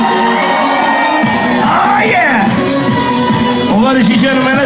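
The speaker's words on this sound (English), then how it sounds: "Somebody, anybody," Wedding guests scream, whoop and cheer together in a loud crowd, with rising yells swelling over the noise and a party host's amplified voice hyped up over it.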